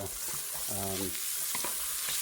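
Steady broadband sizzling of sliced sausage pan frying, with brief stirring clatter and a short tonal squeak partway through.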